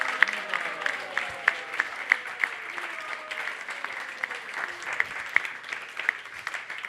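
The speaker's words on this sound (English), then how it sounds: "can we all give a big round of applause for all the devotees?" Audience applause at a youth gathering honoring kitchen volunteer devotees, a steady patter of clapping with occasional sharper claps standing out, a faint voice running underneath.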